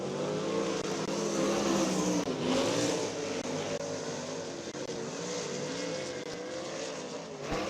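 A USAC race car with a Myers DRC chassis laps the Eldora Speedway dirt track during a qualifying session, its engine a loud, steady drone that swells as the car comes around, with no talk over it.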